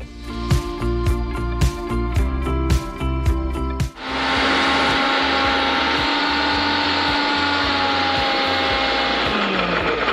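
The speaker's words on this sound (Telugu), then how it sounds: "సో అది మిక్సీ పెట్టాలి." A kitchen mixer grinder (mixie) grinds sprouts and radish batter. A few seconds of clattering give way to a loud, steady motor whine that holds evenly to the end.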